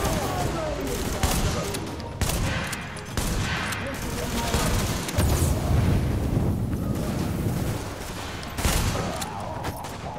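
A shotgun blasts repeatedly in a firefight in The Division, loud booming shots and rattling gunfire back to back amid battle noise, with players talking over it.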